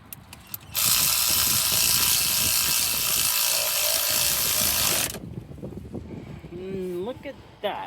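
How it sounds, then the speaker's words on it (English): A cordless ratchet tightens alternator bolts on a Jeep Liberty 3.7, with a loud, steady mechanical whirr for about four seconds, then shop noise and handling after it stops. "she's just gonna tighten those up with the ratchet and then we'll put the belt on"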